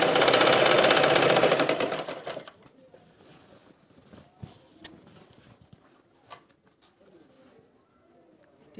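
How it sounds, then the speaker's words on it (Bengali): A sewing machine stitches stretched elastic onto trousers in one loud, close whirring run of about two seconds, then stops, leaving faint handling noises and small clicks. "সেলাই বসিয়ে দিতে হবে।"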